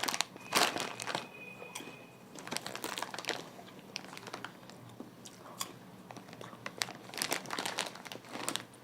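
A Jaguar snack bag crinkles close up in sharp bursts of plastic rustling, broken by quieter crunching moments, with no talking.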